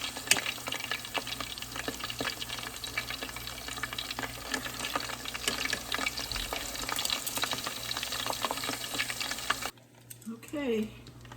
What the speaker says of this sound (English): I'm just gonna let it fry just to give it a nice color and punch